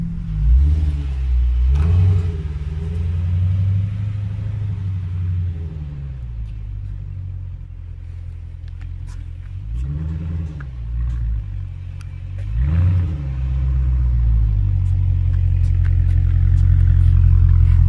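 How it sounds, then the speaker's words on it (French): A 500 hp muscle car pulls away from a standing start, its deep engine rumbling loud and close with several rising revs that swell and fall, ending in a sustained heavy roar. "La ligne droite, un démarrage."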